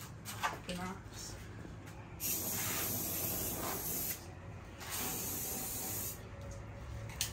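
Spray paint hisses from a can in two long bursts of about two seconds each, plus a few short spurts, close and sharp, between brief pauses.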